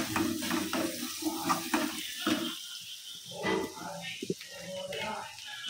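A jackfruit seed dish stirred in a pan, a spoon scraping and clinking against the metal in short repeated strokes with soft wet sounds, close and moderately loud.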